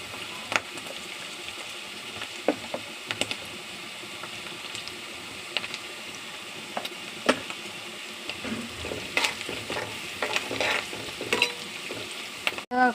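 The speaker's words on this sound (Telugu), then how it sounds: "ఆనియన్స్ కొంచెం ఫ్రై అయ్యేలాగా చూసుకోవాలి" Onions fry in oil in a pan, a steady close sizzle with scraping clicks and knocks from stirring scattered throughout, no talking.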